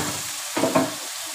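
Minced meat frying with onions in a pan, a soft background sizzle broken by two quick stirring scrapes.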